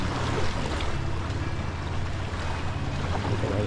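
Lake Ontario waves washing ashore at Scarborough Bluffs beach park in Toronto, a continuous rushing wash of water with low rumbling and wind buffeting the microphone, steady and fairly close.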